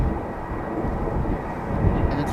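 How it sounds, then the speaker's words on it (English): A 17-year-old KLM Airbus A330-200 takes off at Amsterdam Schiphol, a steady broadband engine roar holding at constant loudness throughout, heard from a distance with no clear talk over it. "And it is KLM flight 781 going to Bridgetown. It is a 17-year-old A330-200,"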